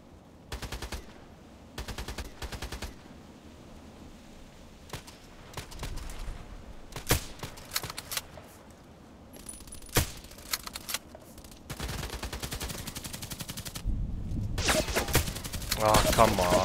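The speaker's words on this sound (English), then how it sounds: "Already shooting at my place" Gunfire rattles through a sniper video game match: repeated bursts of rapid automatic shots and single sharp cracks, separated by short pauses and building to heavier, more continuous firing toward the end.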